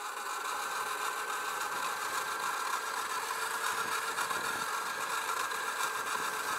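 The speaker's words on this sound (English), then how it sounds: "that little whining sound. Here as we go down, that's the regenerator braking" A Sur Ron Light Bee electric motorbike descends a steep road, its regenerative braking producing a steady, faint mechanical whine with rattle and wind noise, continuous and even throughout.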